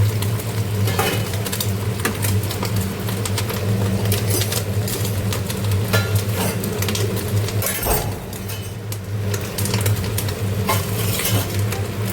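Cumin powder masala cooking down with a splash of water in a pan for a Bengali fish curry, a loud continuous sizzle with constant stirring, spatula scrapes and metal clinks, no talking.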